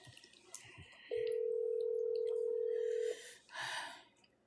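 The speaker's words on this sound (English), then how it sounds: "Oh, it's ringing." A telephone ringing tone during a call: one steady electronic tone held for about two seconds, fairly loud and clear, with faint background noise and a breathy sound before and after.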